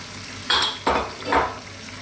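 Canned tomatoes poured into a pot of slow-cooked Middle Eastern lamb stew, three short wet splashes and sizzles spaced about half a second apart, fairly quiet and close, no talk.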